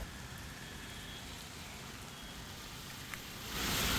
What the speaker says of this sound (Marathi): पाण्याचा पावसाचा जोर इतका आहे